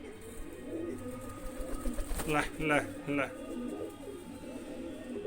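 Large female pigeons coo in a loft in short throaty bursts, a few close calls clustered in the middle, while someone talks and calls out over them.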